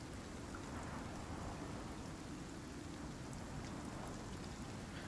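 Steady rain pours in a thunderstorm in the survival game Icarus, a dense even hiss throughout with no clear thunderclap, heard alone.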